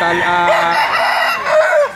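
A talisayin asil rooster crows loudly and close, one sustained, wavering call lasting about two seconds.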